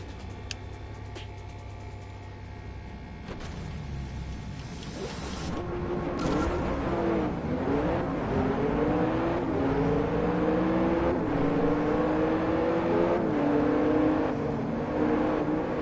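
Race car engines in the DriveClub VR video game rumble and rise in pitch as a race starts, a steady roar that climbs through several accelerating gear sweeps.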